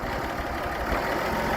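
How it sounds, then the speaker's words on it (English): An International Harvester 1086 turbocharged diesel tractor with a cab runs with a dense, steady, rough engine clatter, close and continuous, with no voices over it. "tractor starts and runs good"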